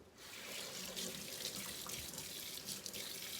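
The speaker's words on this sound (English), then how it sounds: "Give my hands a quick wash." Hands being washed under a running kitchen sink tap, a steady broadband rush of water that stays even and close throughout, with no talking over it.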